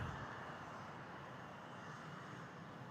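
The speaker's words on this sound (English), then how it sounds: "next departure is an E175" Steady broadband jet engine roar from an Embraer E175 departing Toronto Pearson airport, a continuous distant rumble and hiss holding level throughout with no talk.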